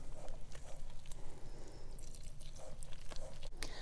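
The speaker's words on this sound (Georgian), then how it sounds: "ვიწყებთ მოზელას" Wet pizza dough kneaded by hand, with soft squishing and sticky slaps in an irregular rhythm, heard close up and quietly, with no speech.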